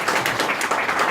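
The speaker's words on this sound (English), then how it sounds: "A round of applause for Melani," An audience at a human rights event applauds to welcome Melani, a brief, steady burst of many hands clapping at moderate loudness.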